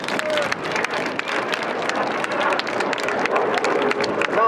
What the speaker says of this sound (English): it's time to clap your hands for Major Federico De Cecco